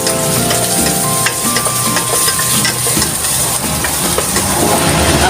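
Garlic fries in a pan for Ilonggo chicken binakol, a loud, steady close sizzle with crackling and occasional stirring scrapes, no voices.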